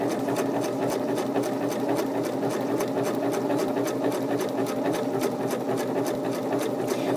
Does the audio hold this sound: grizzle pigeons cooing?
no